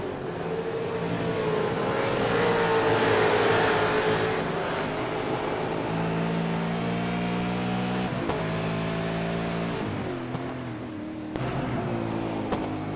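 Onboard sound of a V8 race car in a sim racing game, the engine whining with rising and falling pitch through gear changes, steady and moderately loud with no talk.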